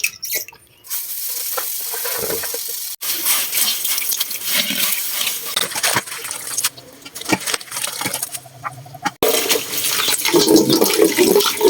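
Water splashes and sloshes steadily as sun-dried leaves are rinsed and rubbed by hand, with brief pauses and louder swishing near the end.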